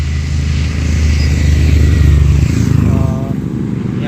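Motorcycles pass on a mountain road on a Delhi to Rishikesh ride, a loud, close engine roar that swells and then fades as the bikes go by, with wind rush throughout.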